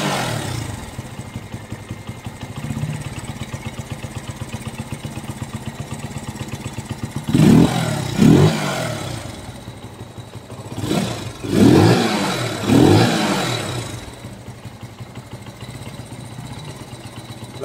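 A Benelli 150i motorcycle engine idles with a steady putter after a fuel pump change, then revs up twice in quick pairs, each burst rising and falling, before settling back to idle; close and clear with no talking.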